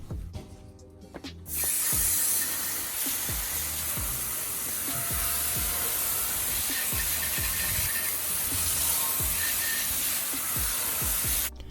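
Chemical Guys Sticky Citrus Wheel Cleaner sprayed generously onto car wheels during a full detail of a black CRV: a steady, close, continuous hiss of spray mixed with repeated short pump clicks, with no talking.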